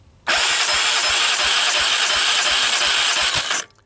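A Honda TRX300EX ATV engine with a suspected poorly seated intake valve revs under throttle with a steady, loud, hissing roar and rhythmic chuffing puffs, then cuts off abruptly near the end.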